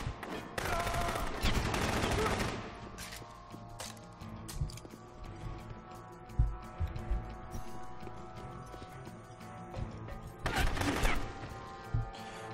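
Repeated bursts of gunfire in the video game Rogue Warrior, loud rapid volleys at the start and again near the end with scattered single shots between, over a continuous game soundscape.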